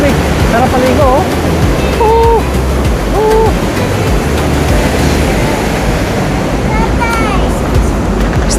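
Roaring rush of water at Athabasca Falls, a steady loud broadband wash filling the whole clip, with voices speaking over it and a few brief whistling tones.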